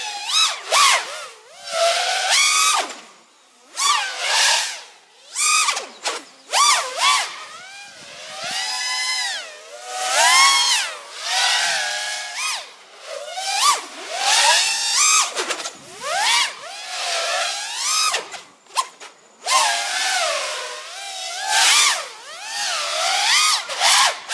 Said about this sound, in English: Here comes full throttle. Full throttle.